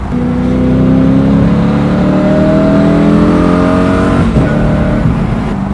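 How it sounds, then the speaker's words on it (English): A powerful car pulls hard as the throttle is rolled on, its engine note climbing steadily through a loud, continuous acceleration with rising harmonic whine, close and alone without talk. "even just getting on the throttle and just rolling it on, the incredible torque, the incredible pull"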